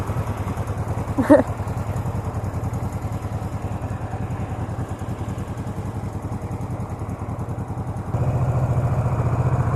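A 1985 Honda VT500 bobber motorcycle runs steadily on the road in second gear as the throttle is rolled off, its engine a continuous mid-pitched drone with a brief clatter early and a slight rise in level near the end.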